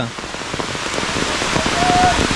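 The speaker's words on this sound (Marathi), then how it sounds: "अशा पावसामध्ये जंगलातून चालायला पण थोडासा त्रासच होतो" Rain falls on a Konkan forest during monsoon, a dense, steady patter of drops on leaves and ground that builds slightly in loudness, close and continuous.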